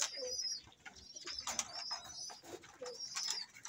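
Fancier's pigeons coo close by in a loft, soft throaty coos repeating irregularly between brief chirps and light rustling.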